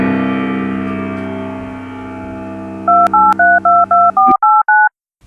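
A telephone is dialed to police headquarters for an anonymous call: a run of about eight crisp, loud touch-tone beeps in quick, even succession follows a fading electronic drone, then the line falls silent.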